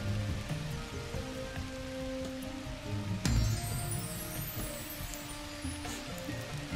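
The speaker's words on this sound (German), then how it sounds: "Ich lasse es nochmal ein bisschen regnen hier." Steady rain in the video game The Universim, a continuous dense patter with a brief louder burst midway, playing alone at moderate level.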